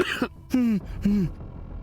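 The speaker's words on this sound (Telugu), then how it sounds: "దగ్గు వస్తుందా?" A person clears their throat and coughs a few times in short, close bursts, each with a rough, voiced rasp.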